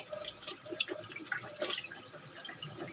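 Running water trickles and drips while something is rinsed off at a sink, faint and close, with small irregular splashes throughout.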